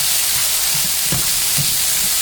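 Onion frying in oil in a pan for chicken fried rice, a loud steady sizzle with occasional stirring scrapes, heard close with no talk.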